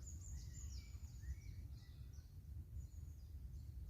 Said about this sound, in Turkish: Kuş sesleri yetiyor zaten ya.